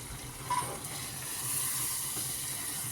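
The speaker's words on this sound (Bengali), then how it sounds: "এরপর আমি মাংসটাও দিয়ে দিলাম, দিয়ে মাংসটাকে ভালো করে কষিয়ে নেব যতক্ষণ না মাংসের গা থেকে তেল ছেড়ে আসে।" Beef is slow-fried (kosha) in oil with spices, giving a soft, steady sizzle and hiss close by that stays faint and even, with one brief clink near the start.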